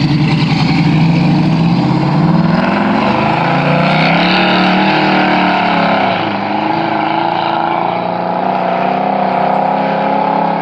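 A 5.3 LS V8 swapped into a G-body car revs loudly and close by, its engine note climbing and falling over several seconds with a heavy, continuous roar.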